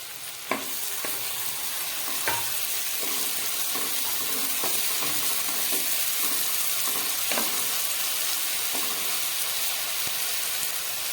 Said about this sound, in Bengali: মশলাটা হালকা কষে গেছে।